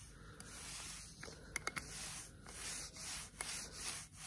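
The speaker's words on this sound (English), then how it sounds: "Bit of a light sand on that." A wooden chopping board is lightly hand-sanded, giving a soft, quiet scratchy rubbing with a few small knocks, close and faint without talk.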